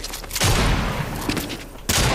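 Rapid bursts of gunfire in the video game Fortnite ring out loud and dense, with a short lull in the middle before a final burst.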